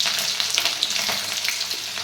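Garlic sizzling in hot oil for dal tadka, a continuous crackling fry with small pops, steady and close, heard alone.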